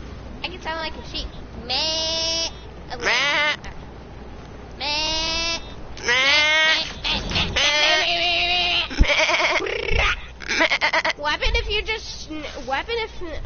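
A person imitates a sheep, letting out a run of wavering, nasal bleats in several separate bursts, close and fairly loud, with short gaps between them.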